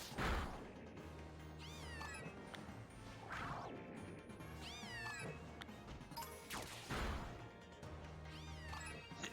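Cartoonish cat meows from a video game repeat several times in rising, chirpy calls, mixed with sharp whacks, crashes and game music.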